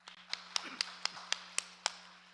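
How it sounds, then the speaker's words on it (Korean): A handful of sharp, separate hand claps from a congregation at a Korean church worship service, seven or so slaps spread unevenly, faint and somewhat distant in a quiet hall. "박수 한번 합시다"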